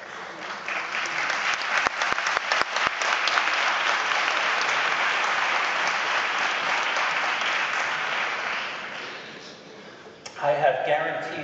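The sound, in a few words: audience applause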